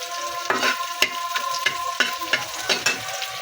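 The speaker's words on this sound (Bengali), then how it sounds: "এখন এগুলো একটু নেড়ে চেড়ে একটু" Cauliflower, potato and tomato curry ingredients with chopped garlic frying in a pan, close sizzling broken by rhythmic spatula scrapes and taps roughly every half second, no voices.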